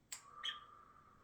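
A pet parrot gives two short, faint calls in a quiet room, a sharp chirp followed by a brief whistled note that trails off.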